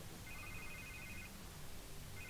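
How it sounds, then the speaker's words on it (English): Telephone ringing in the video game Batman: The Telltale Series, a faint electronic ring tone in two short bursts over a dense low background hum. "I can't get the phone to stop ringing."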